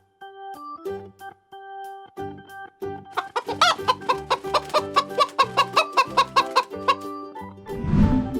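Chicken clucking in a rhythmic series of short, fairly loud calls, with a musical backing underneath and a brief burst of noise at the end.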